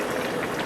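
Borscht liquid boils in a pot, a steady close bubbling and hissing that lasts the whole short moment, with no talk.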